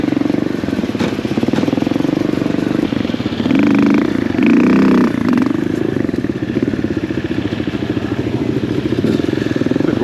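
Suzuki DR200 dual-sport motorcycle engine running steadily at close range on a hard enduro course, a constant low drone with a short louder rise in revs midway and no talk over it.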